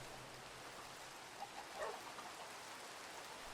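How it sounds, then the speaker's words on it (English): Steady rain falling in the video game Minecraft, a soft continuous hiss throughout with a few faint brief sounds near the middle. "It's still raining, but you know what? Sometimes rainy days can be pretty cozy."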